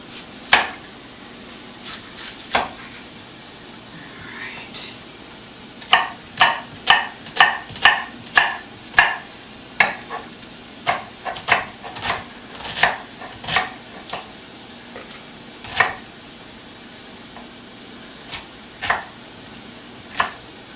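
A knife chops an onion on a cutting board for potato soup, giving a run of crisp, irregular taps up close, some clustered quickly and others spaced apart, with no talking.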